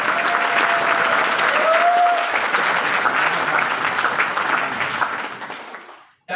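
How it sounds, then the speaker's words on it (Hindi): Loud, sustained applause from a seminar audience at a business training event, dense continuous clapping that fades out toward the end, with a few voices faintly mixed in. "इनके लिए जोरदार तालियां बजाइए।"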